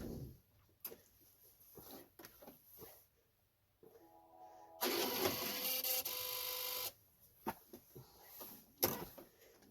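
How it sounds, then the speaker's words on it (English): A sewing machine stitches a larger piece of fabric onto a quilt unit, a quiet close burst of rapid mechanical whirring lasting a few seconds amid soft handling clicks and rustles. "sew this larger chunk of fabric onto your unit, which I will do quickly here"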